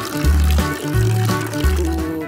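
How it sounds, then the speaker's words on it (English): Watermelon juice jelly mixture poured into a peel bag, three loud close glugging pours in quick succession, each a short liquid gush with no talk over it. "Let's pour the mixture into the peel bag."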